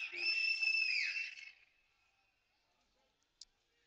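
A referee's whistle blows for a foul during a French National league football match between Quevilly-Rouen and US Créteil, one long shrill blast of about a second and a half, clear and prominent, followed by quiet.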